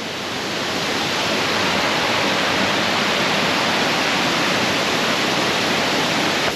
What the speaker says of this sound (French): Ça, c'est une des plus belles cascades d'eau de ta vie.